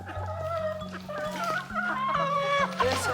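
Farm birds cluck and call close by, a steady stream of overlapping clucks and short cries with a low droning tone underneath, fairly loud and continuous.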